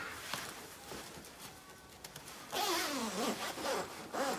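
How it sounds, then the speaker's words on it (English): A soft-shell hunting jacket's zipper is pulled up in a quick rasping run, with faint rustling of fabric before it. "Zips up just fine."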